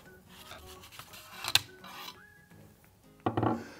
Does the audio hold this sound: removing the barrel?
yes